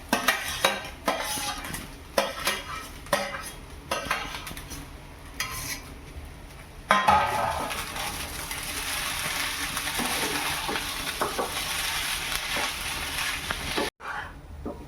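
A spoon scrapes and clinks against a pot while coconut rice is gently stirred over a low gas flame. Distinct strokes come first, then a steadier, softer sizzling bubble with occasional knocks.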